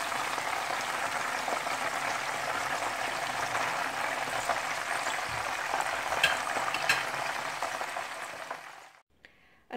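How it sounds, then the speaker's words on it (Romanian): Cordon bleu rolls deep-frying in a bath of hot oil give a steady, dense sizzle with close crackles and pops that fade out near the end. "Am prăjit aceste rulouri în baie de ulei până când s-au rumenit deasupra."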